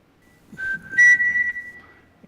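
A person whistles two short, high melodic phrases, the second rising and sliding downward, close and clear against a quiet background.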